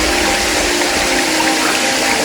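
Cold mountain spring water, only 3 to 4 degrees, pouring and splashing during an outdoor bath on a hillside in Odisha, a loud continuous rushing gush filling the whole moment with no voices.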